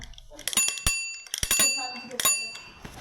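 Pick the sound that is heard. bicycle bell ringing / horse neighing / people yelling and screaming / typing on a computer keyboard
bicycle bell ringing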